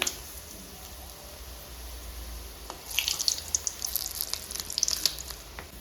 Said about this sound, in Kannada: ಈ ಕಡೆ ನಮ್ಮಮ್ಮ ಬಜ್ಜಿನ ಹಾಕೊಳ್ತಿದ್ದಾರೆ